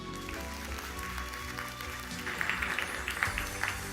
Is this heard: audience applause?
yes